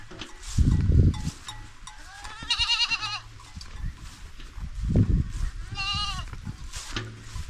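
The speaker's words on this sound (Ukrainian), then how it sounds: "Це у нас малеча. Маленькі. Козенята." Several young goat kids bleat in short, wavering cries on a mountain farm, some close and some farther off, over low rustling and shuffling.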